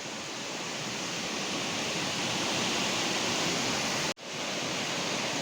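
A strong, forceful creek current pours in a steady, loud broadband rush, with no voices and only a brief dip near the end.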